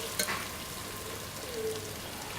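White cumin seeds fry in hot oil with a brief, steady hiss and one quick utensil tap near the start, close and moderately quiet; nobody speaks.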